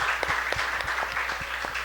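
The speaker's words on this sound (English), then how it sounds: "So, just another round of applause for the perspectives given on this panel." An audience at a tech summit panel on entrepreneurship in Haiti applauds in a brief, steady burst of clapping, moderately loud and diffuse.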